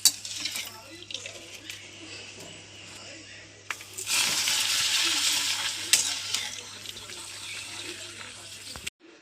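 Papadam frying in hot coconut oil for a home sambar lunch: a quieter start gives way to a steady, fairly loud broadband sizzle through the second half, with a low hum underneath.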